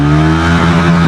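A Triumph Tracker 400 motorcycle revs hard in first gear, a loud, close, steady engine drone with a strong tonal hum and no speech.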